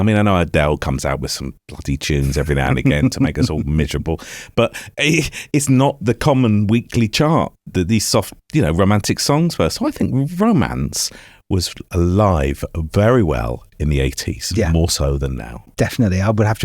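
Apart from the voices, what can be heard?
No everyday noises stand out.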